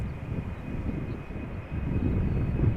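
An Embraer jet departing Amsterdam Schiphol for Brussels, a low, rumbling engine roar that swells slightly louder toward the end of the short stretch.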